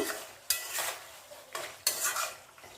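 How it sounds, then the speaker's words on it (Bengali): Chicken pieces being stirred with salt in a pot for a home-style Bengali deshi chicken kosha, giving two clear bursts of scraping and clattering spoon-on-metal stirring with a soft sizzle between them, close and unaccompanied by talk. "নুন দিয়ে একটু নাড়াচাড়া করবো।"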